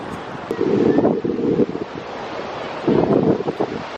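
Ocean surf at a beach washes steadily through strong wind buffeting the microphone, with two louder rumbling swells rising near the start and again toward the end.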